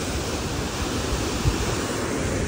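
Waterfall in Kumrat Valley, Swat, a steady loud roar of rushing water filling the whole clip without a break, close by with no voices.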